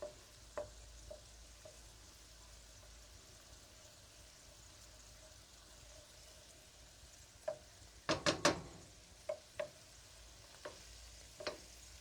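A flour roux cooks in a pan for a creamy pasta sauce, a faint low hiss under a spoon scraping and tapping the pan in scattered strokes, with a quick cluster of clinks near the end and no talking.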